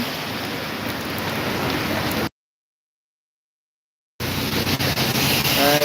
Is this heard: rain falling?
yes